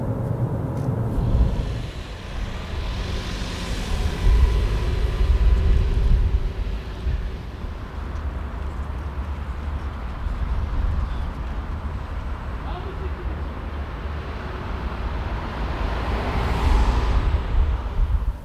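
A 2017 Jeep Compass Trailhawk with a 2-liter diesel moves through city streets in Lisbon, its steady low engine and road drone filling the cabin, with a faint swell of passing traffic midway.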